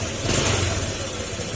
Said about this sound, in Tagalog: At ito na ngayon yung kanyang tunog ng makina.